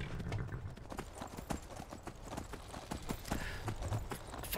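Horse hooves clip-clop steadily in the video game Shadow of War, a brisk rhythmic run of close, crisp hoof strikes that continues throughout.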